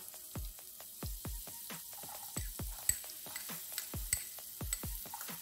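Garlic and onion frying in a pan for potato gratin, a quiet background sizzle broken by repeated sharp knocks and taps of a utensil against the pan at an uneven rhythm.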